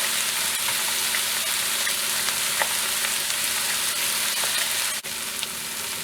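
Onions with ginger paste and chopped garlic fry in a pan with a steady, dense sizzle and occasional faint stirring clicks, close and constant throughout.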